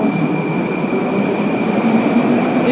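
A metro train at Lermontovsky Prospekt station on a newly opened line, a loud, steady rumble of carriages running close by with a continuous roar and faint wheel squeal, no talk.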